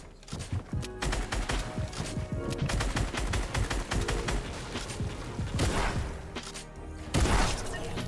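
Dense, loud video-game gunfire from a shooter match, rapid shots crackling continuously with heavier rocket blasts and explosions near the end.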